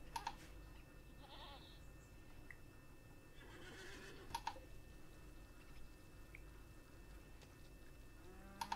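A horse neighs in the colony sim RimWorld, with several whinnies and bleat-like calls spread across a quiet stretch of ambient game sound, with no talking over it.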